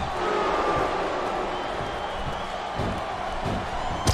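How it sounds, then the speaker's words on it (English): A capacity wrestling arena crowd in the SmackDown vs Raw 2008 video game roars steadily throughout, a dense continuous cheer with occasional thuds and slams cutting through. "This capacity crowd is certainly getting its money's worth here tonight."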